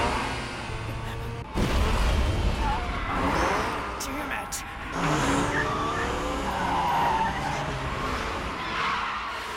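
An animated car in an Initial D hill-climb race skids and spins out on a mountain road: long tire squeals and sliding screeches over a roaring engine, with a sharp thud as the spin begins.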